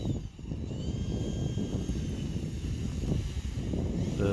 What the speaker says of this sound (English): Raising the flaps to taxi it back.